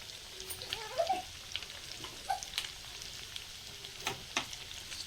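Garlic and ginger frying in oil for a Telugu-style chicken pickle give a soft, steady low sizzle with faint occasional pops and stirring clinks.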